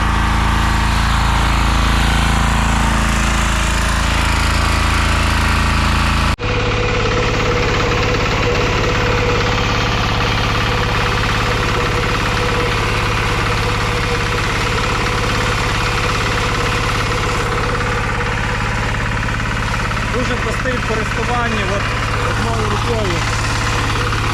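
A Kentavr MB 2060D diesel walk-behind tractor with a tiller attachment works soil in a garden plot, its engine chugging steadily and loudly throughout with a brief interruption near the start, the knocking diesel rhythm close and continuous.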